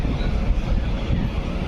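A train stands at Yelahanka station in Bangalore, giving off a steady, close, broadband rumble with low-end churn and no voices.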